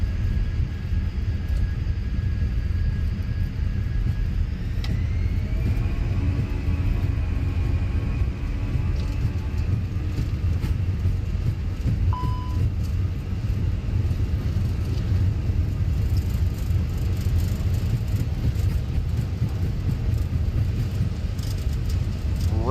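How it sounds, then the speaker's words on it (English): Airbus A320 takeoff roll from Düsseldorf in Microsoft Flight Simulator, a loud steady low engine rumble and roar that holds constant, with a rising tone partway through and a brief electronic beep, no talk. "Wow, what a takeoff that was."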